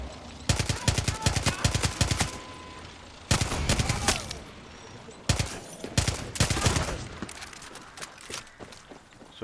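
Rapid automatic gunfire from a weapon in the shooter video game Far Cry 6, delivered in three long, loud bursts separated by short pauses.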